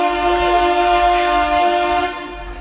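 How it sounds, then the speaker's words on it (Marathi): A train pulls into a station platform and sounds a loud, sustained horn blast over a low rumble, with the horn fading toward the end. "आली ट्रेन प्लॅटफॉर्मवर"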